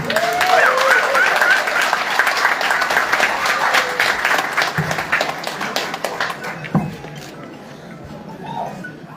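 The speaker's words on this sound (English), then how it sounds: "A round of applause for him." Audience applause for Acting IGP Tunji Disu, the 23rd Indigenous Inspector General of Police, at a police handover ceremony: dense crowd clapping that swells early, with voices mixed in, then thins and fades over nine seconds.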